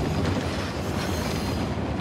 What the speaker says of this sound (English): Commandeering a train?